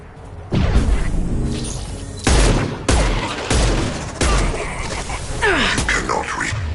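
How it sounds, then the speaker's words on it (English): Heavy high-impact gunshots from Mass Effect Legendary Edition, several loud booming blasts spaced about a second apart, each with a ringing tail, amid ongoing combat noise. "Firing a high impact shot."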